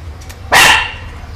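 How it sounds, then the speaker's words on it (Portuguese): A dog, the mother of a litter, gives one sharp, loud bark at close range, followed by a short tail of fading echo in otherwise quiet surroundings. "Olha o latido dela."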